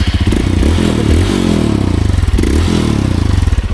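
Honda CRF150L trail motorcycle riding over rough ground on a mountain trail, engine loud and close with pulsing throttle, clattering and thumping as the bike bounces over terrain.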